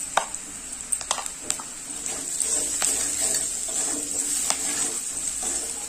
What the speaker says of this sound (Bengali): মশলা ভালোভাবে কষাই করে নেব, সব কিছু ভেজে নিয়েছি